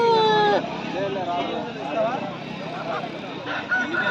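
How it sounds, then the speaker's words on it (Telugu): At a Sunday poultry market in Pileru, a Gaaju breed rooster gives a short crow at the opening. Busy market chatter and voices follow, with faint fowl calls mixed into the crowd noise. "ఇక్కడ ఇంకా గాజు పుంజులు కూడా ఉన్నాయి చూడండి"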